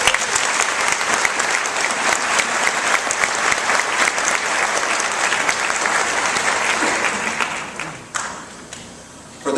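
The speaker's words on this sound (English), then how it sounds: "Let's give all those graduates a round of applause." A crowd in a college graduation auditorium claps loudly and continuously for veterans among the graduates, then the applause thins and fades near the end.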